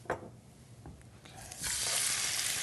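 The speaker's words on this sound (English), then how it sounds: "Listen to that sizzle. You know it's nice and hot." Boneless, skinless chicken breasts sizzle in a hot pan, a soft clatter at first, then a steady loud hiss of frying that builds and holds.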